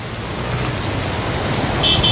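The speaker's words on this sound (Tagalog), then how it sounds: "Mel, sa tindi ng buhos ng ulan dito sa Maynila ay mga ilang motorista ang na-stranded" Steady, dense rain hissing down without a break on a flooded Manila street, with a low rumbling traffic undertone in the background.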